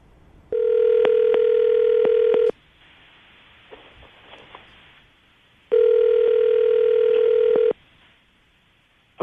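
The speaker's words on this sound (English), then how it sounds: "I'm going to dial the phone number right now" A telephone line gives two long steady ringback tones about two seconds each, separated by a pause with faint clicks and dialing sounds, played loud and clean during a radio show call.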